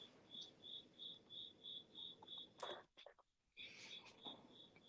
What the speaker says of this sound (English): I have a damn cricket in my bathroom, and I hear that man, he just chirping away.